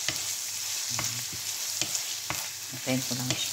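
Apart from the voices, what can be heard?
onions sautéing in a pan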